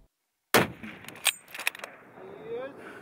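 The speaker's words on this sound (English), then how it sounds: "Okay, I'm going to take the shot now." A single sharp rifle shot cracks out close and loud after near silence during a markhor hunt in rugged mountain terrain, followed by a few clinking metallic sounds and faint rustling as the report fades.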